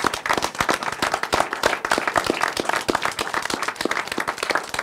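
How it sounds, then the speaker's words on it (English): Sustained audience applause for finalists at a national high school economics competition, many people clapping at once in a thick continuous patter that stays loud from start to finish. "And now, folks, one more round of applause for all of our finalists."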